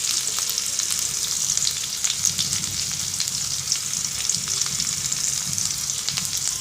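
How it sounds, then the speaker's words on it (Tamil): Onion, ginger and curry leaves sauté in hot oil that already holds mustard and cumin seeds, giving a steady, close, even sizzle with soft stirring scrapes throughout and no voices. "இதை கொஞ்சம் வதக்கி கொடுத்துக்கலாம் ஃப்ரெண்ட்ஸ். இப்போ நம்ம வெங்காயம் வதங்கிடுச்சு."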